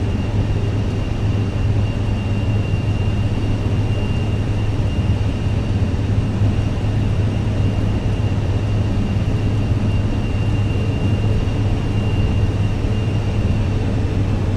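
An airliner taxiing in Microsoft Flight Simulator 2024, a steady loud engine hum with a low drone and a thin high whine, unchanging and alone for the whole stretch.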